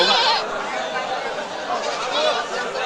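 Goats bleat amid a busy crowd at a Qurbani goat market, with steady chatter and voices blending into a dense, continuous din.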